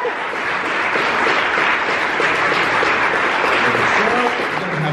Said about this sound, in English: I expect a lot of applause from the room